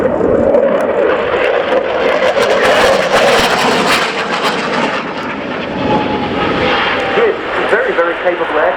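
A Czech Air Force Saab Gripen fighter jet roars loudly and continuously through a flying display at an air show, its engine noise sustained and close, with a voice talking over it.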